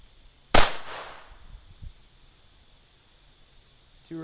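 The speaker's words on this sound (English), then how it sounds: "this is a Dreyse 1907. It's in 32 ACP, so we're going to give it a try." A Dreyse 1907 pistol in .32 ACP fires a single sharp shot into a duct tape vest, loud and close, with a short ringing tail that fades into quiet.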